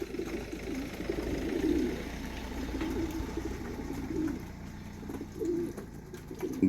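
Young racing pigeons coo steadily in a loft, their low throaty calls rising and falling in overlapping phrases, moderately close with no voices.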